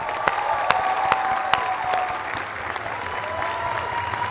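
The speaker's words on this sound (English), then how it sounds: "Please give a warm round of applause" Audience applause at an awards ceremony, a steady clatter of many hands clapping at moderate volume, with a few sharper nearby claps standing out now and then.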